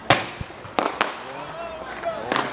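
Fourth of July fireworks pop and crackle in a few sharp bursts, some close and loud and others fainter, while people chatter excitedly between the blasts.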